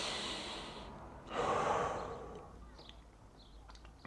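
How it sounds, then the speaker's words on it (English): A deep breath is drawn in through the nose with an audible inhale, then released in a long, breathy exhale, close and fairly soft in a quiet room. "Take a breath with me, y'all."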